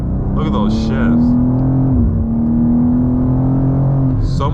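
A 2024 BMW M2 G87 accelerates hard from a takeoff on a hot day. The engine note climbs loud and steady, then drops briefly at a gear shift and pulls again, with a person talking over it at times.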